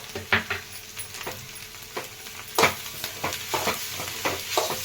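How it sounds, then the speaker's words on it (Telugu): Garlic chili powder is stirred into a frying carrot and egg fry, with a soft sizzle underneath and repeated scraping strokes of a spoon against the pan at an uneven rhythm. "ఇప్పుడు వెల్లుల్లి కారం వేసుకుందామండి. వేసుకొని ఒకసారి కలుపుకుందాము."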